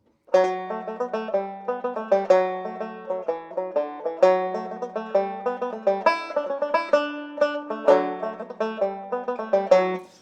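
A plucked tenor banjo plays a lively Irish slide, bright picked notes in a bouncy lilting rhythm, solo and close up.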